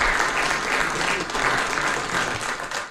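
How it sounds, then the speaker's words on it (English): Audience applause following a talk on Armenian memory books in Belmont, Massachusetts: dense, steady clapping from a crowd, fairly loud and continuous throughout without speech. "And now please applaud for Khachik Muradian."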